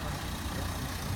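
An SUV drives slowly along a narrow street in the historic town of Kinsale, giving a steady, low engine rumble that stays fairly constant for about a second without distinct peaks.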